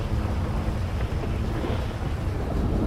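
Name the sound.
thunder and rain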